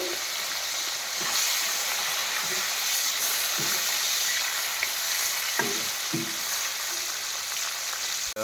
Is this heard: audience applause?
no